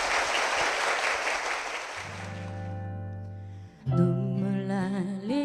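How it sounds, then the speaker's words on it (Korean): A church congregation claps in blessing with a full, dense burst of applause that fades over about two seconds. Low sustained organ tones then enter, followed by a sung melody. "여러분 큰 축복의 박수 부탁드립니다"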